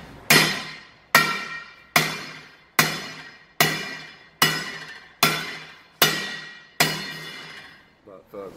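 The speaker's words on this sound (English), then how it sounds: "Gonna rectify that here directly with the snap-on rim straightener." Nine sharp, evenly spaced hammer strikes ring against a car wheel rim being straightened, each loud metallic hit decaying before the next, close and alone, followed by a brief faint rustle at the end.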